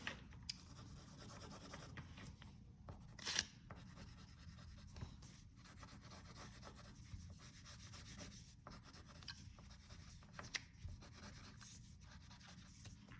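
Pencil shading on paper for a pine cone still life drawing, a soft continuous rubbing scratch with steady strokes and occasional sharper scrapes, close and quiet.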